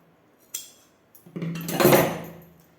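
Scissors cut into blouse fabric along a marked line during tailoring, with a single sharp click followed by a longer, close, crunchy swish of the blade through cloth.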